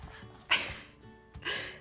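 A dachshund gives two sharp, close yelps with soft whimpering whines between and around them, set in a quiet indoor room.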